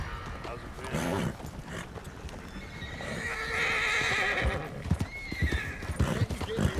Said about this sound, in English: Stuck on this horse.